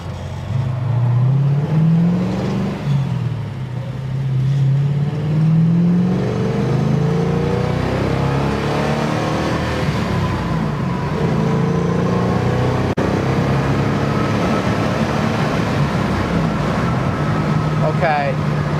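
A 1967 Ford Mustang driving, its engine note rising and falling as it accelerates, heard from inside the car with a steady road rumble and someone talking over it.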